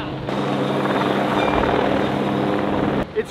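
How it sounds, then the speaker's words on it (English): Loud, close helicopter rotor drone from a helicopter with a hanging saw trimming trees in a backyard, a steady thumping roar that holds for about three seconds and then cuts off. "It's crazy how much the helicopter like sways when the saw blade hits something."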